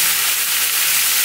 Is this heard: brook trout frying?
yes